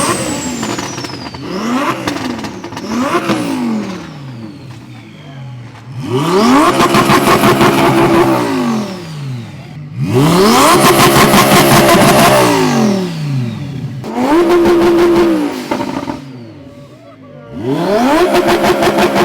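A sports car engine at Monterey Car Week revs hard again and again, each loud roaring swell climbing and falling, with short idling gaps between the bursts.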